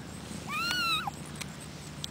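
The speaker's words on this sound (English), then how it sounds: "We have 2 litters of kittens here." A one-day-old kitten from a litter gives a single clear, thin rising-falling meow, close and fairly loud against a quiet background.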